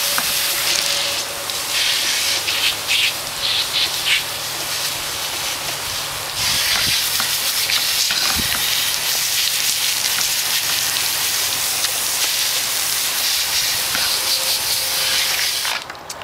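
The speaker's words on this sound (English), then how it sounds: "Now we're just going to rinse it off." Water spray rinsing a mountain bike after washing with a carbon-safe cleaner, a steady loud hiss of jetting water running almost continuously, shifting in intensity as the stream moves over the frame.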